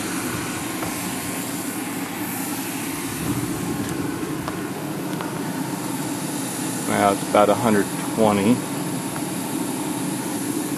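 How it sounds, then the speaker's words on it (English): A 1 kW steam turbine spins at about 10,000 rpm beside a blower of similar loudness, making a steady close whirring hum. Someone speaks briefly over the machinery. "You can hear the turbine sound and you can hear the blower sound."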